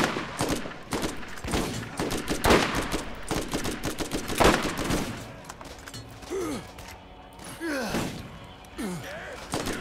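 Pistol gunfire in the shooter game Borderlands: a rapid series of loud, sharp shots in the first half, then scattered sounds under excited voices talking.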